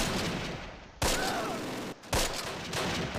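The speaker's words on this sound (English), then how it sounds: "And we have an artillery barrage." An artillery barrage in the wargame Close Combat: Last Stand Arnhem: two heavy blasts about a second apart, each a broad crash that rumbles away under a constant noisy battle backdrop.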